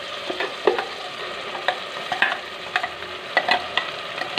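Masala frying in oil with softened tomatoes for a mutton curry, a steady close sizzle broken by repeated sharp scrapes and clinks of a spoon stirring the pan, with no talking.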